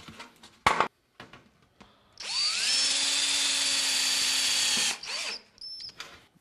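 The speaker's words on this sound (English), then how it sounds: "Then we take 2 of these self-tapping screws. Drive them through." Power drill driving self-tapping screws into aluminum pipe: a short burst, then one sustained whirring run of about three seconds winding down, with scattered handling clicks around it.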